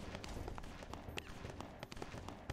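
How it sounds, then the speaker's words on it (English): Gunfire from the BloodRayne Terminal Cut video game, a string of sharp, distant cracks scattered through a busy game soundscape with footsteps and background noise. "I hear gunshots."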